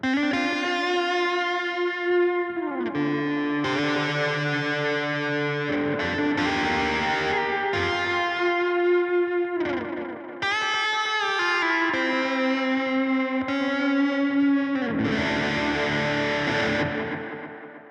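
Sustained electric guitar notes from a pedalboard, drenched in heavy delay and distortion, repeats smearing into a thick, swirling wash of melody that plays continuously throughout.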